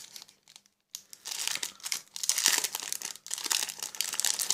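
Parcel packaging being opened, with loud, close crinkling and crumpling of plastic or paper that starts after a short pause and continues in dense, irregular bursts.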